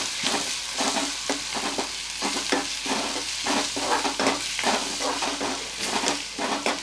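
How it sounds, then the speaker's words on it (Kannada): Onion and tomato sizzle and fry in a pan while a utensil stirs them in rhythmic scraping strokes, a continuous close, loud hiss with no talking. "ಓಕೆ, ಇಲ್ಲಿ ಫ್ರೈ ಆಗ್ತಾ ಇದೆ."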